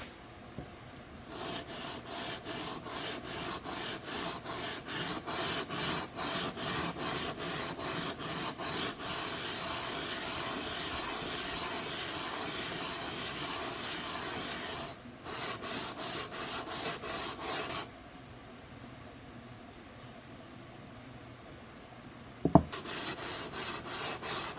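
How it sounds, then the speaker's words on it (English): Sanding dried filler on a Simpex vise produces a long steady scratching rub, close and even, that breaks briefly a few times and then resumes, with a faint knock near the end. "then I'm going to sand it and get it ready for paint"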